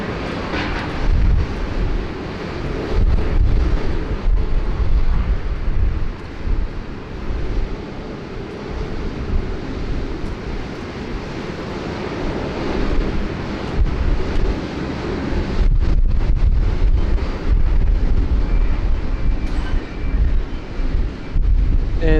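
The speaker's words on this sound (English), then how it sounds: "Cathay flight CX100 commencing taxi. A350 1000 heading back to beautiful Hong" A Cathay Pacific Airbus A350-1000 airliner taxiing at Sydney Airport gives off a steady, distant jet engine whine and roar, heard outdoors with gusts of wind buffeting the microphone.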